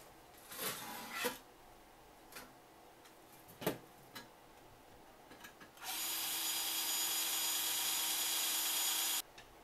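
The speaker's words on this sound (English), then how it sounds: "Then it's just a matter of drilling the holes through." A few sharp ticks and taps, then a steady high-pitched power drill whine running for several seconds before cutting off abruptly, drilling holes through a power supply base during a G5 to ATX conversion.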